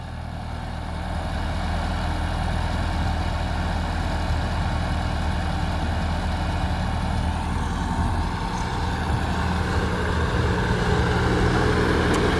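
A tractor engine idles with the clutch pushed all the way down, a loud, steady low rumble with an even mechanical throb that runs unbroken, close by and without talk.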